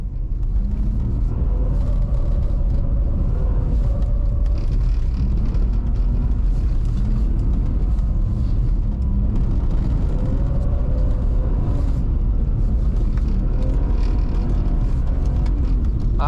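A BMW E46 320i drives a snowy forest road, giving a continuous low rumble of engine and tires with gentle swells in engine pitch as it works along the winding route.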